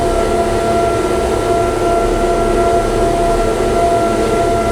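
A Chinese AUPAX combine harvester drives along a street, its engine holding a steady, loud, continuous drone with a tonal whine throughout and no talking.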